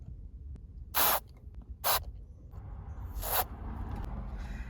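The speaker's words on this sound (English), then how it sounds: "I'm just going to take my electronics cleaner with the straw on it, and I'm going to start spraying some in there just a little bit at a time" Electronics cleaner sprays through a thin straw between stuck car dash buttons in three short hissing bursts, the first two close together and the third a little longer, over a low background rumble.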